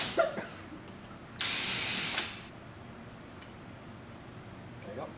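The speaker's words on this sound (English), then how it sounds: "I'm going to go with just a little bit larger drill" A power drill bores screw holes for a door lockset, a short whining burst of about a second near the middle, with faint handling noises before and after.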